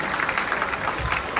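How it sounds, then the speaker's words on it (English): Steady applause from an audience at a college graduation day ceremony, a dense, even patter of many hands clapping for a guest, moderately loud and continuous for the whole moment. "Give him a huge round of applause"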